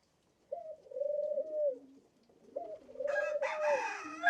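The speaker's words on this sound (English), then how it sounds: "that you hear cooing, he is actively trying to woo that female" A dove coos twice in soft, low, rounded phrases, close and clear in a quiet setting, with a faint chirp near the end.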